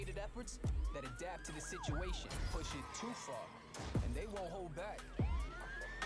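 A police siren in Need for Speed Heat wails and sweeps up and down over engine noise and crashes, loud and close, with a voice talking over it.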